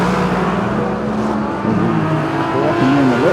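Superstock race cars roar around the Woodford Glen Speedway track, loud sustained engine drone with rising and falling revs as several cars race close together.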